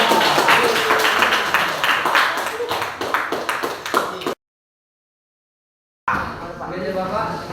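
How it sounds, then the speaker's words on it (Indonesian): A classroom of students applauds a group, giving a brisk scattered round of hand claps that fades after a few seconds, then breaks off into silence before voices and room noise resume. "Silakan tepuk tangan buat kelompok"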